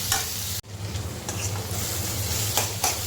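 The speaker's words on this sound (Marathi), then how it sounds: "कांदा असाच व्यवस्थित परतून घ्यायचे आपल्याला" Onions sautéing in a pan for a dry bitter gourd dish make a close, continuous sizzle with stirring scrapes, briefly interrupted by a sharp cut, with no one talking.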